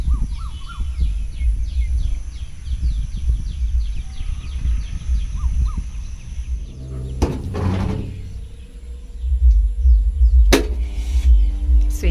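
Birds in a village sing steadily with faint, continuous chirps in the background. A couple of sharp knocks, like a door or latch, stand out partway through.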